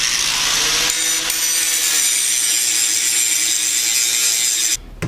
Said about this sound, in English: going to use the plasma cutter. Turn that on.